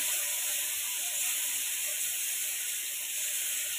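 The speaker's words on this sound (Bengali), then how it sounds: "এবার এই ভর্তাটা আমি আস্তে আস্তে ছেড়ে দেবো।" Mashed bharta goes into very hot mustard oil in a scorched kadai, a loud, continuous close-up hiss and sputter that holds steady throughout.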